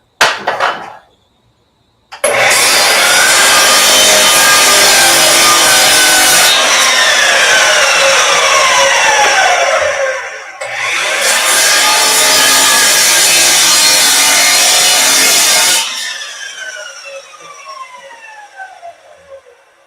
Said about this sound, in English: I'm going to engage the miter saw in a second.